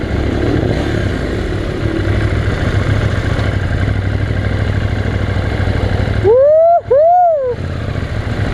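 A KTM Duke motorcycle engine runs steadily with a rough mid-pitched drone, then two quick loud revs near the end rise and fall in pitch.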